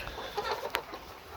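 Caged layer hens on a commercial egg farm cluck faintly, with a few soft, scattered calls over a low steady background hum.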